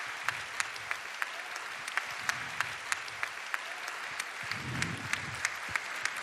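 A sparse audience at a sports awards ceremony claps in scattered, distinct hand claps that stay fairly quiet throughout, with a few low murmurs underneath.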